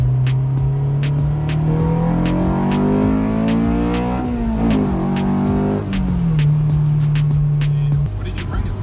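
A tuned 8th gen Honda Civic Si revs up smoothly with a rising, loud engine note, holds near the top, then settles back to idle, with people talking over it.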